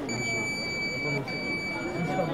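A steady, high electronic beep tone hangs over a murmur of background voices and room noise.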